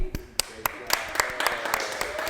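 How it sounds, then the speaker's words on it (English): Hand clapping at a podcast: about nine fairly even claps at close range over a low murmur of background voices. "You know I can't clap well."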